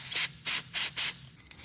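Four short, sharp hissing bursts of aerosol carburetor cleaner sprayed into a snowblower carburetor, evenly spaced and close up, followed by quiet.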